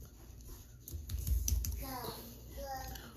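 Typing on a computer keyboard, a quick flurry of soft key clicks close by and fairly quiet, mixed with a person speaking softly over it.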